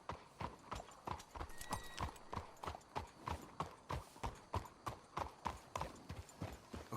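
Horses trotting on a dirt trail in the Western video game Red Dead Redemption 2, a steady run of clip-clop hoofbeats close by with a faint whinny, and no voices over them.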